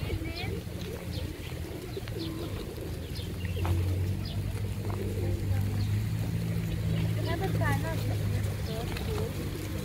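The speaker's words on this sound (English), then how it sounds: "I think all these pigeons know that she's got food." Pigeons coo softly and repeatedly among chirps from other birds in an outdoor waterside spot beside a Thai football ground, while a low steady boat engine drone rumbles underneath and people talk nearby.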